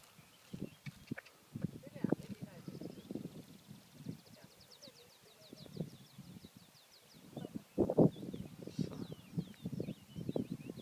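A small horse walking outdoors in Jutland, hooves clip-clopping in a steady uneven rhythm, fairly close, with rustling, birdsong and people talking nearby.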